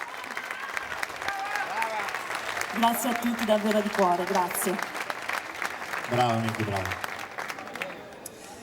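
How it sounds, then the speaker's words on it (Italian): Audience applause at an outdoor orchestra concert in Piazza Manzoni, Jesolo, a steady wash of clapping running throughout, with someone speaking and singing-like tones layered over it near the mic. "senti che applauso"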